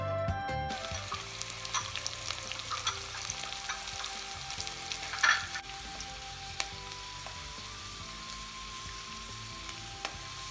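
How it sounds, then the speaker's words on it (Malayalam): Mustard seeds, curry leaves, garlic and ginger frying in hot oil, a steady close sizzle with an initial burst of crackling and a few light stirring knocks, alone without talk. "എണ്ണ ചൂടായതിനു ശേഷം നമ്മൾ എടുത്തു വെച്ച കടുകിടുക, അതിനുശേഷം കരിവേപ്പില ഇടുക, പിന്നീട് നമ്മൾ എടുത്തു വെച്ച വെളുത്തുള്ളി ഇടുക, അതിൻ്റെ പിന്നാലെ ഇഞ്ചി ഇടുക"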